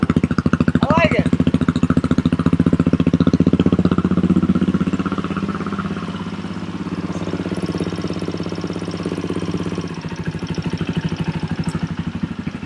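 A KTM motorcycle engine running and idling up close, a loud steady chugging thump that settles to a slightly lower idle, with someone talking over it.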